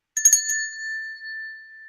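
A small bell is struck a few quick times, then a single clear ring sustains and slowly fades, bright and close in otherwise quiet surroundings.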